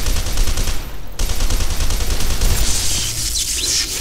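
Gunfire in the shooter F.E.A.R. 2 rings out as a steady, dense stream of shots, loud and near, briefly cut off at about a second and then resuming under heavy game ambience.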